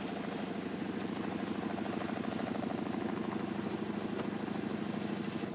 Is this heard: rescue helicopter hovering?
yes